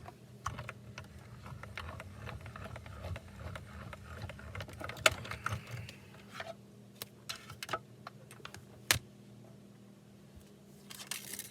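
A manual die-cutting machine cranks plates and Be Mine dies through to cut a punch-art house. Faint, irregular clicks and ticks sound up close over a low hum, with no talking.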